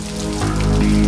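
Raindrops fall in a steady, fairly loud patter that builds slightly over about a second, with a sustained tonal hum underneath.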